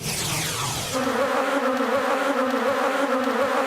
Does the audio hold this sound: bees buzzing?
yes